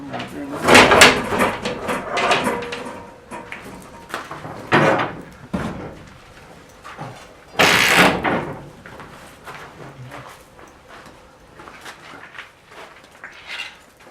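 A large shop door in a CNC machine shop is opened, giving a few loud clattering, sliding bursts spread over the stretch, with people talking between and over them.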